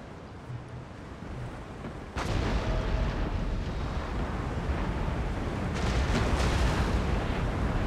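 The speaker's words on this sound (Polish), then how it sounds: "Niestety catche walą pociskami, które wybuchają." Exploding shells boom in a naval battle at Copenhagen in the strategy game Empire: Total War. A sudden heavy blast breaks the quiet, a rumbling roar sustains, and a second loud detonation follows near the end.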